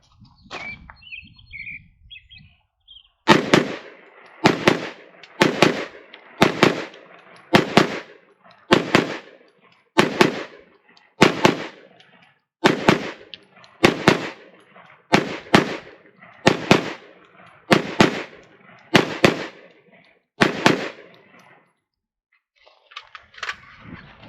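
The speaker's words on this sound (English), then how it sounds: "So now we're going to be running 30 rounds out of the PMag Gen 2." Diamondback DB-15 rifle firing 30 rounds from a PMag Gen 2 magazine outdoors, loud sharp shots in a steady paced series of about sixteen visible bursts after a quiet start.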